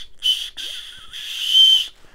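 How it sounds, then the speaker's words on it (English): A small plastic whistle on a camera backpack's sternum strap blown in three shrill blasts close up, the last one longest and loudest. "it's got the sternum strap and it's got a whistle on it"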